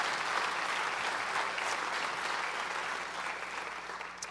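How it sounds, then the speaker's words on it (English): Sustained applause from an audience at a college convocation, steady and fairly loud for several seconds before easing slightly toward the end. "let's give them a round of applause for being acknowledged"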